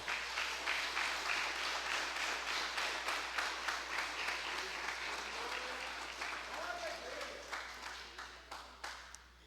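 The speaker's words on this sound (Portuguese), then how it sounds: "Você pode aplaudir ao Senhor." A church congregation applauds in rhythmic, sustained clapping for several seconds, with the beats becoming more spaced and fading slightly toward the end, under a faint background voice.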